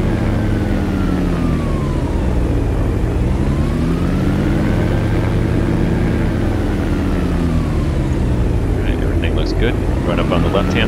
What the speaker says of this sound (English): do a quick run up on the engines